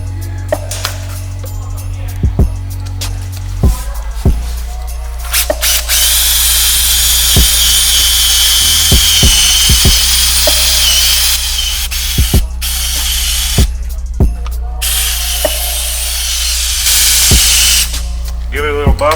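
A power drill spins a small buffing pad with Zephyr Pro 40 polish on an aluminum wheel, a loud continuous whine that shifts pitch as pressure changes, with sharp clicks and brief pauses throughout.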